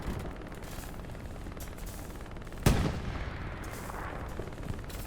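A tank cannon fires during a World of Tanks-style match on the Kursk Windmills map. One loud, close boom rolls off into a fading rumble over a steady hum of engine and battlefield noise.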